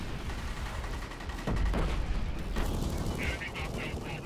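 Gunfire and a grenade blast in the online multiplayer shooter Killzone Shadow Fall, with bursts of shots and a heavy thump through a dense, steady battle din.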